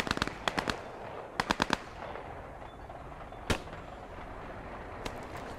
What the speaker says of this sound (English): Wow, that was some really good shooting by Oddball